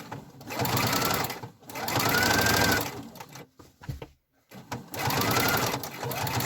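A sewing machine stitches across the bottom of fabric for a homemade advent calendar, running in three steady whirring bursts with short pauses and clicks between them, loud and close, with no voice over it.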